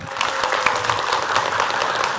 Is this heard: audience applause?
yes